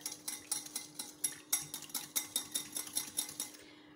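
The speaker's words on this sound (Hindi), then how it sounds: "1 अंडा मैंने बोल में ले लिया था और अभी मैं इसको अच्छे से बीट कर लूँगी" An egg beaten in a bowl with a utensil for beef chilli dry, giving rapid rhythmic clinking strokes about four per second, close and clear with no talk.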